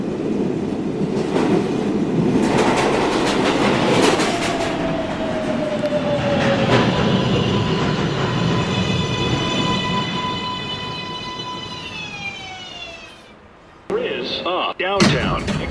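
A Manhattan-bound R142A 1 train on the New York subway runs loud with rolling rumble and rising motor whine, then slows into a station with a falling electric tone, a door slam and a recorded voice announcing.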